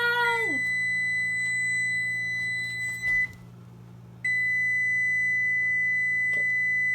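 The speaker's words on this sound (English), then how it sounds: "Okay, turning off timer." A kitchen timer beeps after a batch of cookies finishes baking, a steady electronic tone repeating loud and close, briefly cutting out midway before resuming, over a low constant appliance hum.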